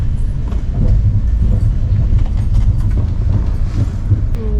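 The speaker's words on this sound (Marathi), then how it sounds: "11:15 बरोबर गाडी पोचलेली आहे" Tejas Express train pulling into Ratnagiri station, a steady close rumble of rolling wagons with faint clicking from the rails, sustained and loud throughout with no talk.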